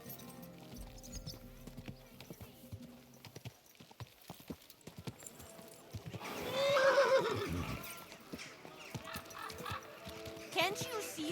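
Rhythmic hoofbeats clop along under a busy mix of video game sound, and a horse lets out a loud neigh partway through, with more clopping afterward.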